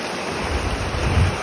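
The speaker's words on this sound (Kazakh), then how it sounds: "Таштан ташқа ұрынып ұшқан су." A mountain stream splashes over stones in a broad, steady rush of water close by, loud and unbroken, with a low rumble and some wind buffeting.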